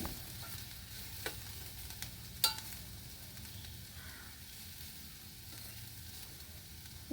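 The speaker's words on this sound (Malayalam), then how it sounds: "മീറ്റ് മസാല നമുക്കിടാം ഇത് പതുക്കെ ഒന്ന് വാടി വരട്ടെ" Meat masala fries quietly in a pan while cooking a Nepali dish, a soft continuous sizzle with a few faint clicks of a utensil against the pan.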